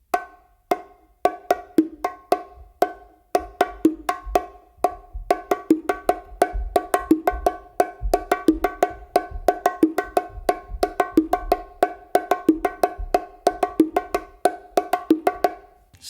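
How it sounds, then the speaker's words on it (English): Bongos play a repeating hand pattern in which a quieter stroke from the non-dominant hand comes just before each accented hit, forming a steady, dense groove of sharp, close strikes with no voices. "But what really spices that up is the hit before it, which you do with your non-dominant hand."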